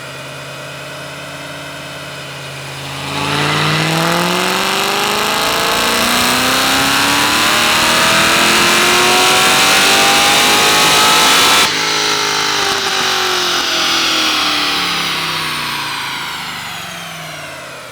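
A supercharged Chevrolet Silverado V8 with methanol injection runs on a dyno, rising from a steady idle into a long, loud rev with a climbing pitch, then cuts off sharply and winds back down, with no voices.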